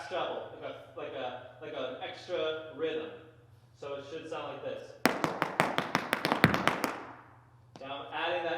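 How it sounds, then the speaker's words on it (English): A fast burst of sharp shoe taps from Irish dance fast trebles with extra front-foot rhythm, about a dozen rapid strikes in a rhythmic run, between stretches of talking. "you want to add just an extra bit of front foot to that fast treble,"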